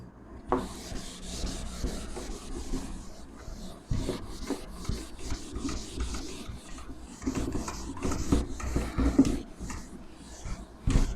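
A teacher wipes a classroom board during an organic chemistry lesson, giving a series of dry rubbing and rasping strokes in irregular bursts, close and fairly loud, with no talking over them.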